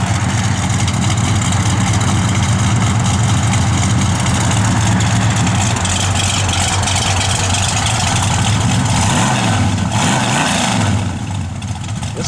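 A 1970 Plymouth Sport Satellite V8 rumbles steadily at idle, loud and close, with a deep low throb and a slight rise in revs toward the end before it settles.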